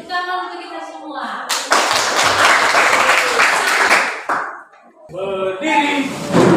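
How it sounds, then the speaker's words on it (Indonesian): Loud applause from a classroom, sustained clapping for a few seconds during a teaching practice lesson, between stretches of Indonesian speech before and after. "Tepuk tangan untuk kita semua"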